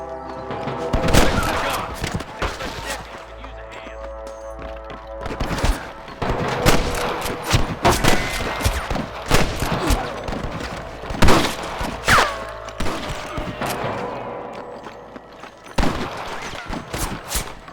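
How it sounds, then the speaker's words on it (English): Gunfire from a shootout in the western video game Red Dead Redemption: repeated loud shots and volleys in irregular bursts over a steady background bed, with occasional thuds between. "Damn fine shooting, boys."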